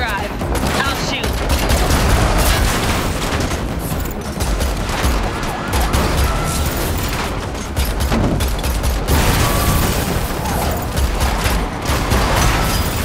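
Dense, sustained gunfire fills a chaotic car chase in the video game The Matrix Awakens, loud bursts layered over engine roar and sirens throughout, with a voice speaking briefly.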